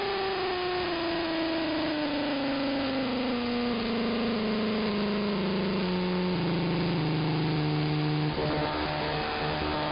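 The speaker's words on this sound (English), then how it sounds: "it sounds like a motor in stages. It sounds like it's shifting gears." A motor hums steadily and steps down in pitch in distinct stages, like shifting gears, close and constant for nearly ten seconds before settling into a lower, rougher drone.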